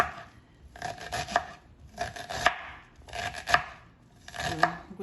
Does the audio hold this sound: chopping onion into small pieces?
yes